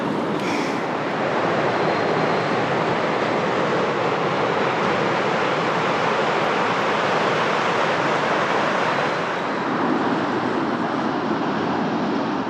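Ocean surf at a cold Sydney northern beach around Narrabeen and Curl Curl, heard as a continuous broad roar of breaking waves close at hand, steady throughout with no voices.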